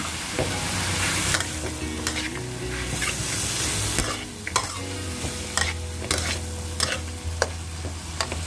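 Fish balls stir-fried in a wok with pea eggplant and fingerroot, a loud steady sizzle under repeated sharp clanks of the spatula striking the metal, with no talking.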